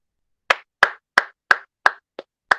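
Seven sharp hand claps alone in a quiet space, evenly spaced about a third of a second apart, close and crisp, with one softer clap near the end.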